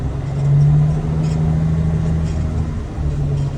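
A truck engine runs at a steady low rumble as the vehicle pulls slowly forward about ten feet at five miles per hour during a brake test, close and continuous with no talk.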